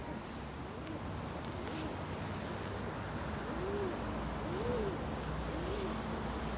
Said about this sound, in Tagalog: Nakatambay yung ating mga kalapati dyan.